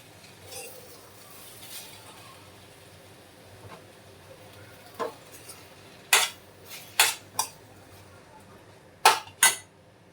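Utensil scraping and clinking in a pan while ridge gourd chutney is stirred together with tamarind, a few faint taps early on, then several sharp metallic knocks and scrapes in the latter half, with no talking.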